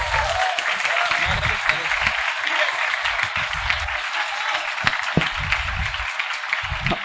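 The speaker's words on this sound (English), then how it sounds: "Clap for him." A classroom of students claps for a classmate who plays district-level badminton, with steady, moderately loud group applause continuing throughout. Faint voices are audible underneath.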